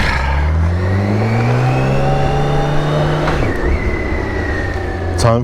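A BMW K1600 GTL motorcycle engine revs up close and loud, its pitch climbing steadily over several seconds, then dropping sharply and settling back into a steady idle.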